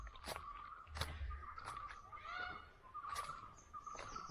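Birds call repeatedly in a bird sanctuary near Vembanad lake at Kumarakom. The short, faint, distant chirps and warbles come at irregular intervals over low outdoor ambience.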